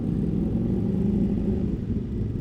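A BMW S1000RR motorcycle on its stock exhaust rumbles and revs nearby, a steady low engine drone that holds for a couple of seconds.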